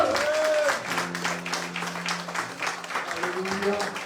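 A church congregation applauds in steady rhythmic clapping during a worship service, with a voice singing or chanting over the continuous clapping throughout.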